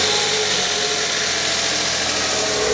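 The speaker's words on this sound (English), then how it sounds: "let's get the engine fired up" A steady, continuous engine drone with a low rumble from a Porsche Boxster idling warm, holding an even level throughout with no voices.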